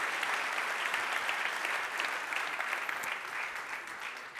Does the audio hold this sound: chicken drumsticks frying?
no